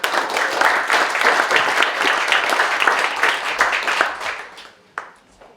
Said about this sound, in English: Give it Bougie a round of applause